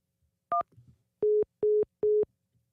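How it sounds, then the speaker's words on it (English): Phone-line tones after a call-in caller hangs up: one short two-pitch beep, then three identical evenly spaced beeps, clean and loud, with no speech. "Someone called in, but they hung up."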